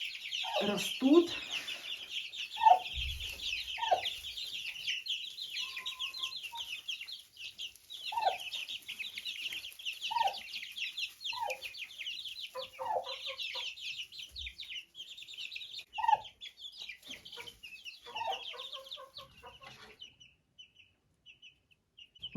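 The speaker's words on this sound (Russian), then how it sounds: "Покажу вам немножко этих цыплят" Young chicks and hens in a coop give soft scattered clucks and a constant high cheeping chatter, close and moderately loud, with no talk.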